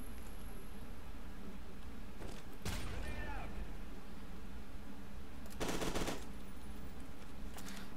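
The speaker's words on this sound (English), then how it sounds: "Back to the submachine gun." A submachine gun fires in the FEAR 2 shooter game: short bursts of rapid gunfire, with a longer loud burst later, over a constant noisy game soundscape.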